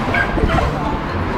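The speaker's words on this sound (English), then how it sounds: "He's just a puppy, so we need to get him blessed." A five-month-old puppy at an outdoor Feast of St Francis pet blessing gives a couple of short, close yips and barks amid steady crowd murmur and nearby voices.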